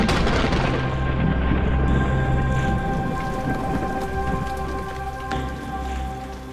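A night thunderstorm over the town center of Issoire brings heavy rain in a dense steady patter, while a deep thunder rumble rolls through and fades, and a sharp crack lands near the end.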